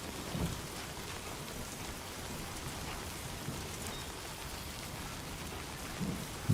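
Timefall rain in a video game, a steady dense patter of rain with a low rumbling undertone like distant thunder, continuous and moderately quiet.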